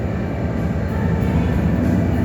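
A New Jersey Transit inbound train bound for Penn Station, New York, pulls in at a station platform with a steady, loud, close rumble of wheels and engine noise and no talking.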